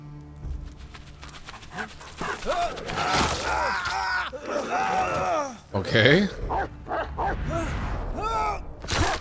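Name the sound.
dog in a medieval tactical RPG video game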